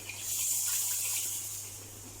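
Cold milk pours into a pot in a steady, soft gush for about two seconds, heard close with no voices.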